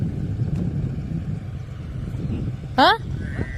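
A tractor engine at work on a farm drones with a low, steady rumble, joined near the end by a brief, high, chirping squeal.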